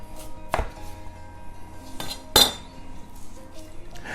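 A knife cuts the end off an onion on a board, three crisp separate chops with the last the loudest, set against a quiet kitchen background.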